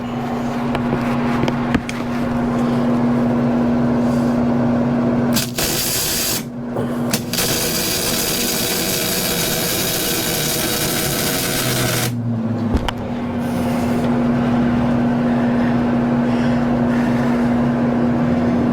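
Metal work on a Givi luggage rack for a Triumph T120 motorcycle: a steady, loud welding hiss and crackle over an electric hum, broken by short harsher bursts of grinding.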